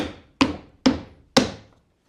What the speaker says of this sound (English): Break out the trusty framing hammer.